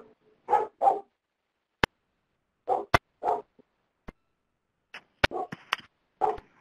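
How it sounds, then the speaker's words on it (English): A puppy barks in the background of a webinar call, several sharp separate yips and barks in short clusters with sharp clicks between them, fairly near and clear against silence, no talking. "We hear someone's nice puppy in the background."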